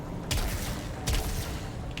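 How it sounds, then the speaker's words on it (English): Gunfire in Warframe, a few sharp shots spaced under a second apart over a dense, rumbling game background. "I think I can shoot through these"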